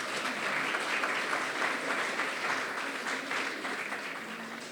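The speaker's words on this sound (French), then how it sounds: "Qu'on applaudit." An audience at an eloquence tournament applauds a student candidate, a dense, sustained clapping from many hands at moderate distance, holding steady before gently tapering off.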